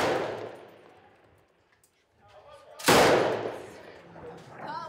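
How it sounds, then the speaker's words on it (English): Heavy machine gun fire during fighting in Raqqa, Syria, with one sharp, loud report echoing across the battlefield after a quiet lull and a fading rumble. "The IS fighter's position is too far, out of range for this heavy machine gun."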